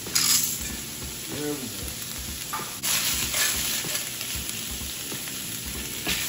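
Pasta stirred into browned beef in a hot pan for homemade cheeseburger macaroni: loud continuous sizzling with scraping stir strokes and utensil clinks, and someone speaks briefly near the start.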